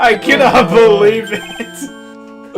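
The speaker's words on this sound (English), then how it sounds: "Oops. Oops. Sorry, that's my phone." A mobile phone ringtone plays in a Phoenix Wright Ace Attorney courtroom scene, a melodic tonal jingle with sustained notes that rises after a spoken line and rings on alone near the end.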